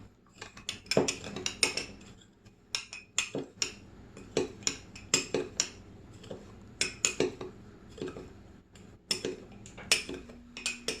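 Borax is stirred in a container with a utensil, producing repeated close clinks, scrapes and taps in irregular bursts, quiet overall with no talk.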